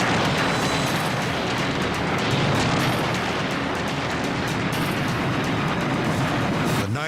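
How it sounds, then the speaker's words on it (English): A fireworks factory on fire at night erupts in a constant, dense roar of overlapping blasts and crackling, loud and unbroken throughout, with a sharp whistle rising near the end. "The night is shattered by constant blasts that send shockwaves for miles."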